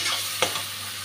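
A spice paste with tomato, onion and green chilli sizzles steadily in a pan, broken by one quick scrape of a stirring spoon.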